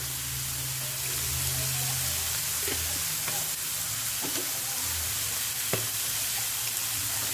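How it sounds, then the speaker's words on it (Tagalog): Beef papaitan sautés in a pan, giving a steady, broad sizzle with a few faint stirring clicks and scrapes. A low hum runs beneath it, and no one talks. "haluin lang ulit natin igisa-igisa ulit natin lang ulit igigisa ng bahagya"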